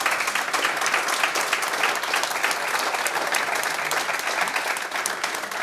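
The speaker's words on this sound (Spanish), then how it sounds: "Entonces pido un aplauso para él." An audience at a political summit panel breaks into steady, dense applause, many hands clapping continuously and loudly for several seconds with no talk over it.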